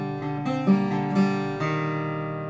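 Guitar phrase from a song, notes plucked with pull-offs to ringing open strings, a short melodic run of several picked notes at moderate volume, played alone.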